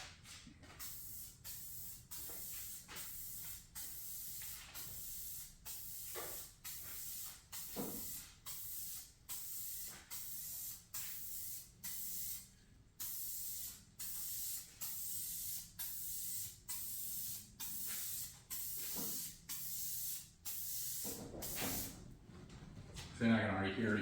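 Aerosol spray paint can hissing in repeated short bursts onto a hood scoop for a 2019-or-later GMC Sierra 1500, a steady rhythmic pattern of sprays with brief gaps, close and fairly loud, with some faint talk.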